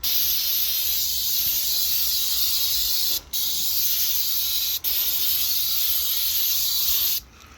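Oil sprayed from an aerosol can into snowblower augers, a loud, continuous close hiss broken by two brief pauses before stopping near the end.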